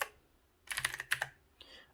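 Keys clatter on an NKEY R3 RGB LED backlit mechanical gaming keyboard, a quick cluster of sharp clicks followed by a pause and one softer press, close and fairly quiet.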